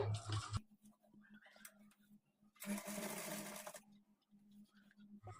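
A sewing machine stitches a trouser hem in short bursts, a low steady motor hum with rapid needle chatter, loud near the start and again in the middle, with quiet pauses between runs.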